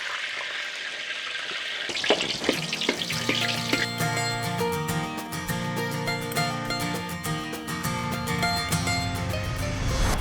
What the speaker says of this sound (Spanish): Y así vamos a terminar de freír todas nuestras empanadas.